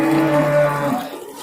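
A cow lows in one long, loud, steady moo lasting about a second at the Prambanan cattle market, then fades into quiet market background.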